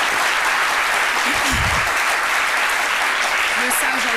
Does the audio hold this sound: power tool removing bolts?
no